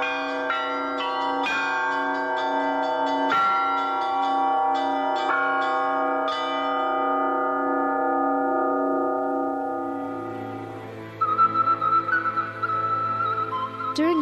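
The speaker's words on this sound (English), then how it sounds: "The art of bell ringing brings together the most well-known ringers from all the world." Church bells ring in Moldova at a bell-ringing gathering, several strikes falling in a loose, uneven sequence, each tone ringing on and slowly decaying, with a higher sustained tone joining near the end.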